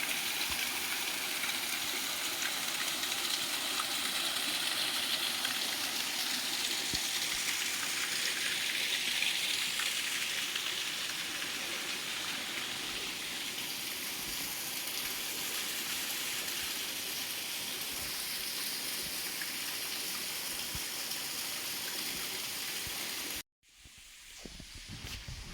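Thotapalli waterfall pouring continuously, a loud, steady broadband rush of falling water that holds unbroken for over twenty seconds before cutting off abruptly near the end.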